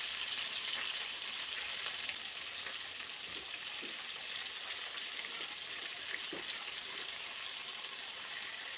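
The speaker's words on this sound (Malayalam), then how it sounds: "ഇനി ഇത് മൂടി വെക്കാണ്ട് തന്നെ നമുക്കത് ഫ്രൈ ചെയ്തെടുക്കാം" Chicken pieces fry uncovered in a pan, giving a steady, dense sizzle and crackle that continues evenly throughout, close and fairly loud, with no talking.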